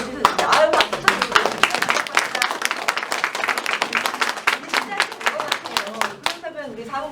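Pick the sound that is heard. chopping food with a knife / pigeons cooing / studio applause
studio applause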